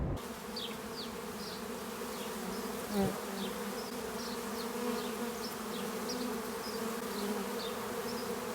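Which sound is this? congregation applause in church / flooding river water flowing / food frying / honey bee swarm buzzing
honey bee swarm buzzing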